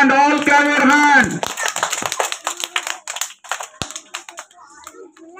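A classroom of children claps for prize winners on a teachers' day celebration, a burst of scattered, uneven hand claps following a raised voice, thinning out and fading toward the end.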